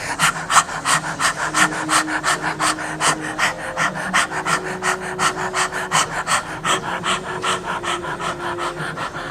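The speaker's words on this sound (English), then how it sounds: "Really pumping the breath from the navel." Rapid rhythmic breaths pump from the navel in a Kundalini yoga kriya, a steady loud panting train of close, even exhalations with a faint tonal drone beneath.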